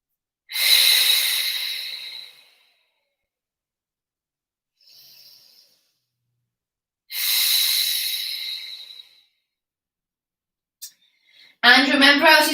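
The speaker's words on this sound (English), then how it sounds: "Take 2 more sets of inhales and exhales here." Slow, deep breathing during a floor stretch: two long airy breaths about six seconds apart, with a faint short breath between them, each one loud and close, then a brief spoken phrase at the end.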